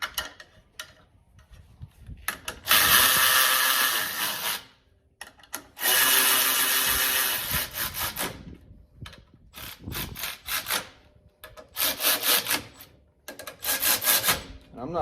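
Hand tool tightening clutch roller bolts on a Polaris General XP1000 primary clutch, a close run of rapid ratcheting and rasping bursts lasting a second or two each, separated by short pauses.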